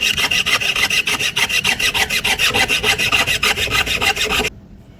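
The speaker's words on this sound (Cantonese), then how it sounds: "一路保持個卓弓垂直水平上下拉" Jeweler's piercing saw cutting metal as the saw frame is pulled up and down, a close, rapid, even rasping rhythm of strokes that stops abruptly near the end.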